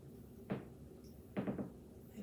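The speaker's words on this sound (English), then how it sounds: "floor is a little creaky today." A floor creaks quietly during a yoga class, two soft short groans about a second apart in a calm room.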